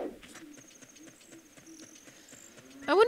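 Hooves of a horse clip-clop at a steady walking pace in a Zelda video game, quiet and fairly distant, with a brief louder burst near the end.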